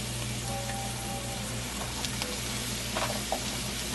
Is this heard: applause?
no